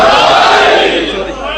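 A large religious gathering at a majlis bursts into a loud, massed shout of the Naara-e-Haidari slogan, many voices roaring together in one sustained cry that slowly fades.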